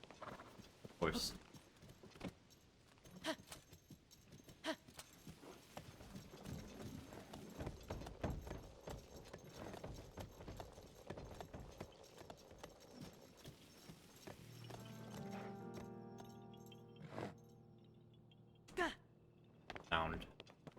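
Hooves of a horse in the video game The Legend of Zelda: Tears of the Kingdom clip-clop steadily at moderate distance, with occasional mechanical thunks and creaks, and tonal game music rising near the end.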